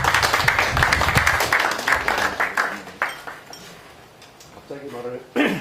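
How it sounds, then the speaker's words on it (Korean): A seated audience at a Korean forum founders' meeting claps briefly at a moderate distance, the applause fading within a few seconds before a voice begins speaking. "박수 한번 해주시기 바랍니다."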